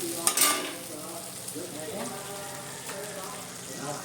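Fish curry of tela piya fish being stirred in a pan, with soft scraping strokes over a low sizzle and a louder clink near the start; a voice murmurs faintly in the background.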